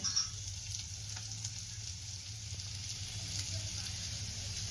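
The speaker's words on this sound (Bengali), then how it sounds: "দেখো পটল আর আলুটা লাল লাল করে ভেজে নিয়েছে" Pointed gourd and potato pieces frying in a pan, a faint, steady sizzle with a low background hum and occasional light stirring taps, quiet and close.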